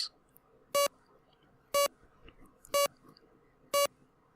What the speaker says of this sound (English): being woken up by the constant beeping of the machines to my right